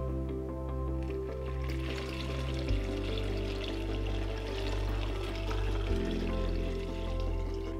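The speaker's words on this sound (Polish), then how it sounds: "Jak już mamy rozpuszczony cukier, jabłka po prostu zalewamy." Sugar water pours steadily over apples packed in a jar for homemade apple cider vinegar, a continuous close splashing trickle running under a constant low background hum.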